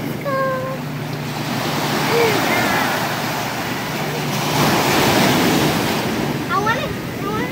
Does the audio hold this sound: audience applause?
no